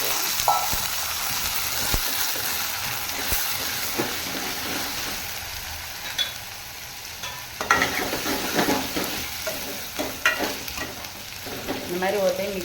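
Masala for beetroot and white chickpea curry sizzling and frying in a pan, a steady hiss with scraping stirs and occasional clinks of a spoon, close up, no voices.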